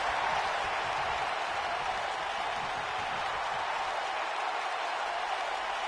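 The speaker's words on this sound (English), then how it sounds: "This arena, this crowd is electric." A steady wash of arena crowd noise, cheering and applause at a K1W wrestling show, holds evenly for about six seconds with no single voice standing out.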